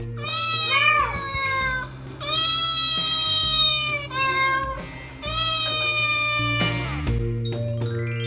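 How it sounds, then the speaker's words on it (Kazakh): A cat meows in four drawn-out, clear calls, each rising and then falling, separated by short pauses and heard close and alone. "Cat."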